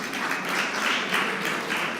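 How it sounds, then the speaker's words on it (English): An audience at a social media breakfast event gives a warm, sustained round of applause for sponsors, a dense even wash of many hands clapping at moderate distance. "Let's give them a warm round of applause,"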